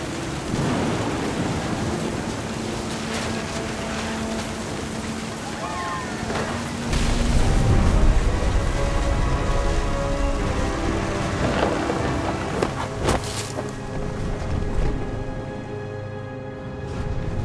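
Thunderstorm in the video game What Remains of Edith Finch: constant heavy rain hiss with deep rolling thunder swelling loudest midway, plus sharp crackling strikes near the end, under a narrator's voice.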